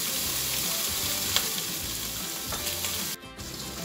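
Mutton sizzles and fries in a karahi with a steady, loud crackle and occasional stirring clatter, continuous throughout with a brief dip near the end.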